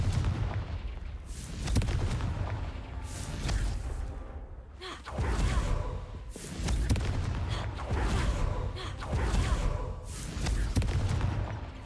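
Repeated Confringo blasting-curse explosions in Hogwarts Legacy, a string of booming bursts with whooshing tails in uneven waves, some hits overlapping, loud and close throughout.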